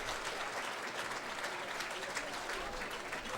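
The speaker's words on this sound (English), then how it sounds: "Lydia Williams gets a nice round of applause as she's helped up by the training staff" Crowd applause in a stadium at a women's professional soccer match between Western New York Flash and Washington Spirit as the Flash goalkeeper is helped up by trainers, a steady distant wash of clapping and crowd noise.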